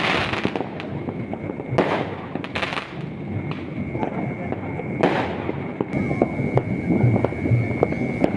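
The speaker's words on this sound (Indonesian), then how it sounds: "Kita lihat city lightnya dihujani oleh kembang api jadi kerlap-kerlip banget" New Year's fireworks over city lights pop and crackle in scattered bursts, some sharp and close, others duller and distant, with a faint steady tone and murmuring voices beneath, heard from a campsite.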